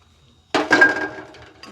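Herbal spice mixture with licorice root and grated amla being stirred in a pan, a sudden clattering scrape of utensil against metal that rattles on briefly and then trails off, with no talking.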